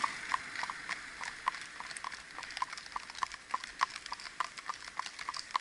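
Mérens horses walking, their hooves clip-clopping in a steady, slightly uneven rhythm on a hard surface, several horses close by, crisp and moderately loud with no talk.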